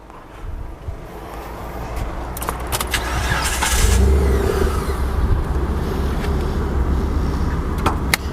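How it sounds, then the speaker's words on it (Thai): A 2014 Mitsubishi Pajero with a 3.0 V6 petrol engine cranks and catches, then runs at a smooth, fairly quiet steady idle, heard close with the hood open. "เดี๋ยวผมเปิดห้องเครื่องยนต์ผมลองสตาร์ทฟังเสียงดูนะฮะลูกค้า"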